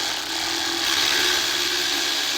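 A ratchet works at a seized, rusty mounting bolt on a car's brake area, giving a continuous rough grinding, clicking texture, close and fairly loud for a couple of seconds.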